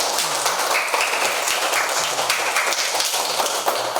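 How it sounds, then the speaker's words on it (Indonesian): Children clapping hands together in a classroom, a dense, even patter of many small claps running steadily without pause. "Mari kita tepuk tangan untuk anak hadiah dulu ya."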